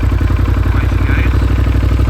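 2019 Ducati Monster 1200 with a Termignoni exhaust running close by, a loud throbbing pulse at a steady idle rhythm with mechanical clatter.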